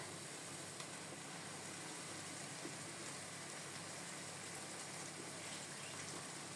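Mushrooms washed under a running kitchen tap, a steady broadband gush of water that stays even and continuous the whole time, close and moderately loud, with no talk.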